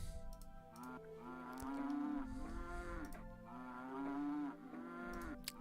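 Cattle in the Settlement Survival city-building game moo in a long series of drawn-out, overlapping calls, with soft computer keyboard clicks between them.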